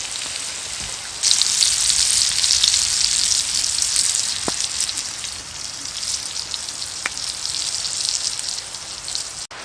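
A steak frying in a hot pan gives a loud, dense, even sizzle like heavy rain, starting abruptly and holding steady for several seconds, close up with faint pops and no talk.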